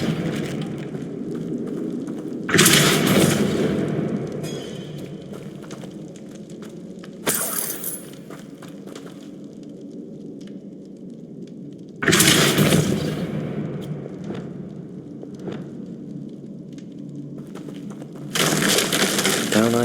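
A spell blasts through stone in the video game Hogwarts Legacy, with several loud, crashing bursts of breaking rock spaced through the stretch over a steady low ambient hum.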